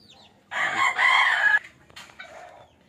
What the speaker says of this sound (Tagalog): Ito native chicken lang yan.